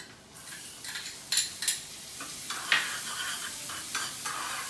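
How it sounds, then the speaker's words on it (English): Chopped onions sauteing with garlic in a pan for a gluten-free pizza sauce, a soft steady sizzle broken by several sharp clinks and scrapes of stirring, no voices. "Onion also will be sauteed only for 10 seconds, not more than that."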